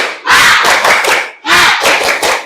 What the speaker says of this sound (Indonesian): Kita tepuk semangat dulu supaya kita lebih semangat ya.